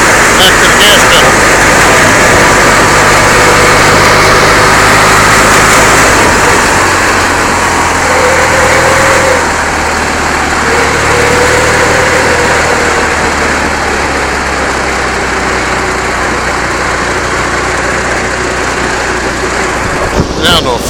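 A trapter's engine runs steadily throughout a ride, a loud continuous drone with slight shifts as the throttle eases back to the gas pedal, and faint tonal whines drift in the middle.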